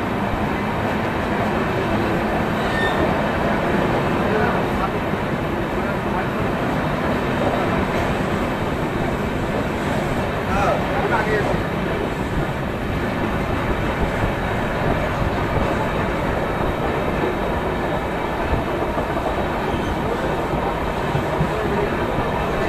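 Indian Railways Poorva Express train departing Durgapur station, a steady loud rumble of rolling wagons with faint clickety-clack over the rails, continuous and close throughout with no talk.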